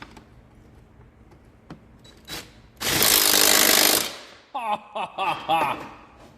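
A power tool tightens an M8 nut on a snowmobile track. It gives one loud, rattling burst of about a second after a few light knocks, followed by short squeaky bursts.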